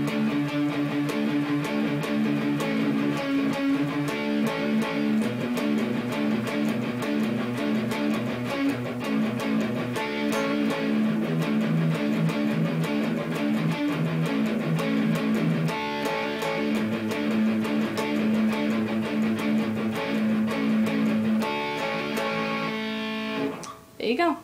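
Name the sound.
guitar playing song verse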